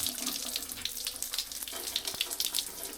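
Shower water running onto a WURKKOS CL01 outdoor flashlight, a steady close hiss and spatter of falling water, continuous with small splashy peaks and no talk.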